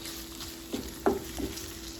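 Steady sizzling of meat and tomato sauce in a hot pan, with a few soft scraping stirs breaking through the hiss.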